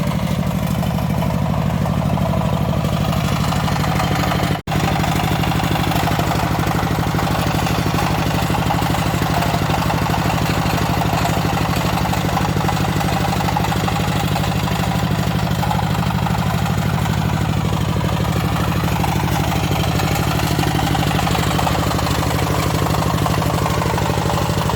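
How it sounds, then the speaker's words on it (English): A two-wheel walking tractor engine runs at a steady, loud idle for the whole stretch, with a brief click partway through. The machine is being serviced for a clutch change in Sega, Siaya. No one speaks. "see if we try it when the tractor is running"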